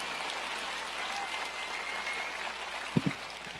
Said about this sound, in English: So one more round of applause for Judith